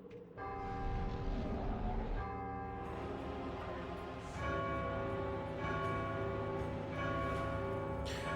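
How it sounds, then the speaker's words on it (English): Large tolling bell from God of War II rings out with long sustained metallic harmonics, struck again several times at roughly one-second to two-second intervals, loud and layered, with no talk over it. "the bell's ringing for the Zeus bell"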